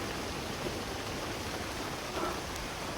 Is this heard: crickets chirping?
no